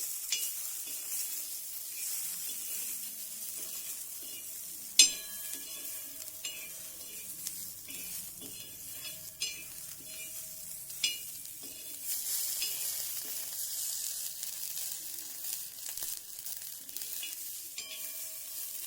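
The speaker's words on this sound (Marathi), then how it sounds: "थोडंसं तेल टाकले मी" Oil sizzles steadily in a pan, a continuous crackling hiss broken by occasional sharp clinks and scrapes of stirring.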